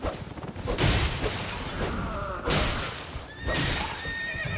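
A horse in the Elden Ring video game neighs in several loud whinnies, with rising and falling squeals near the middle and end, set against a dense battle soundscape of clashes and impacts.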